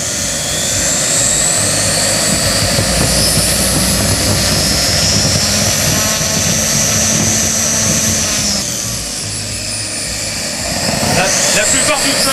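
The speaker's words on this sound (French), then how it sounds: "Ce n'est plus un moteur explosion, mais c'est un petit réacteur." A model turbine jet engine runs at a meeting, giving a loud continuous roar with a high whistling whine that shifts in pitch, while someone talks over it.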